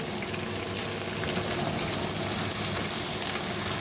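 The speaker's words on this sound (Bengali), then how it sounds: "আগে সবজিগুলো দিয়ে দেবো, এগুলো একটু ভেজে নেব" Winter vegetables frying in a pan, a dense continuous sizzle and hiss that holds steady throughout with no speech.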